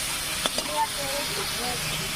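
Spices with panch phoron and bay leaf fry in mustard oil after a splash of spice water, giving a soft continuous hiss with a couple of brief clinks from stirring.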